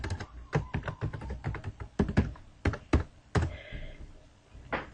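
Someone types a username and password on a computer keyboard at a login page: a close, uneven run of sharp key taps and thunks, with short pauses between bursts and no speech.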